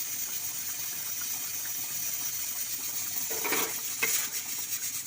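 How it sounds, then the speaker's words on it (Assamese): Fish pieces go into a simmering tomato curry for an Assamese fish curry with data shak. A continuous bubbling hiss plays close by, with a louder sizzling burst near the end as the fish drops in, and no one speaks. "এতিয়া দিলোঁ ইয়াতে মই মাছ"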